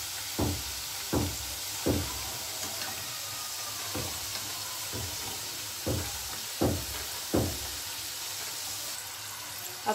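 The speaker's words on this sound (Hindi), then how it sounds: "तो हमें इसे एकदम मीडियम ही गैस पे इसे हमें फ्राई करना है जिससे कि अच्छे से हो जाए।" Potato chips frying in oil on a medium gas flame, a continuous soft sizzle broken by repeated sharp knocks of a utensil against the pan at irregular intervals, close and without talk.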